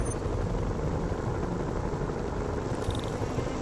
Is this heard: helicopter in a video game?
yes